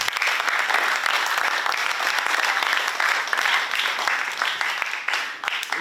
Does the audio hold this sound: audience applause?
yes